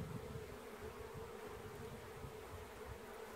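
Honey bees swarm around an open hive as top bars are checked for queen cells, their buzzing a steady, dense drone that fills the whole stretch without a break.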